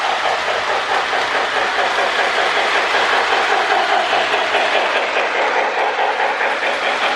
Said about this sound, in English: we got it chuffing really nice